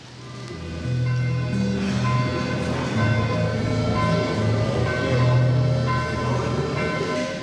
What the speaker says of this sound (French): Entendre bien les cloches qui sonnent